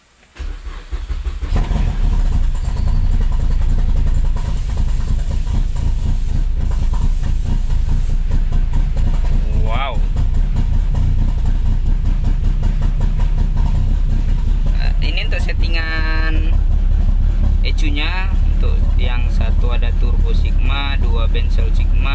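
A Suzuki SX4 rally car engine cranks and catches, then settles into a steady, loud idle rumble with hissing noise; a voice speaks briefly over it.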